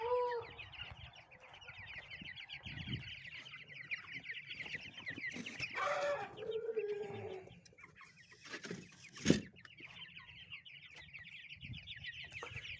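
Young poultry chicks give a constant run of high, rapid cheeping, close and fairly faint, broken by a brief flutter and a single sharp knock.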